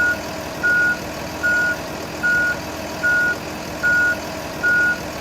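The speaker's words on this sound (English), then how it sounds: "Again, you want to hear your reverse alarm" A school bus's reverse alarm beeps seven times in a steady, evenly spaced rhythm. The tones are loud and close over a low engine rumble during a pre-trip inspection at the rear of the bus.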